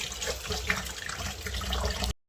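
Water runs steadily from a tap for about two seconds, a continuous broadband splashing rush with no voices, stopping abruptly at the end.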